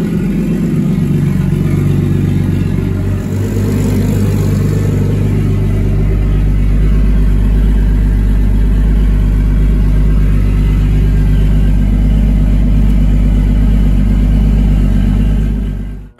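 A Lexus IS300 engine idles on open exhaust with a loud, steady, deep rumble that holds for the whole stretch and then cuts off abruptly at the end. No voices are heard.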